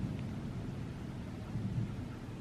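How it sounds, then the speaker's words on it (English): Low, distant thunder rumbles steadily through a storm, a soft continuous roll with faint rain-like hiss and no voices. "Is there gonna be a thunder noise?"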